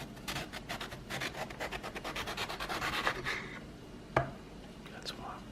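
A knife cuts eggplant into thin strips on a board, giving a quick run of close, rapid slicing strokes, followed by a sharp tap and a faint rustle.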